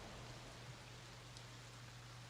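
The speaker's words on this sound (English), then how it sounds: "And the rains pick up outside." Steady, soft rain hiss falls outside, even and continuous, with a low constant hum underneath and no voices.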